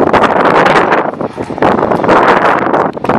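Heavy wind buffets an outdoor microphone in loud, continuous gusts with a brief dip midway, a roaring broadband rush dominating the whole stretch.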